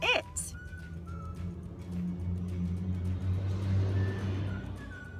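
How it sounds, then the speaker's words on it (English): A loud truck rumbles past on a road, a low steady engine drone building and holding, with a sharp high squeal at the start and faint whistle-like tones above. "Loudest truck in the world."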